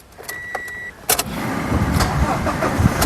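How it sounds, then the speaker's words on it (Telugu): A 2017 Toyota Innova Crysta 2.4 G cranks briefly and fires on the first try, settling into a steady idle after a short electric whine and a couple of clicks, heard close and alone. "ఒకసారి ఇంజన్ స్టార్ట్ చేసి చూపిస్తానండి"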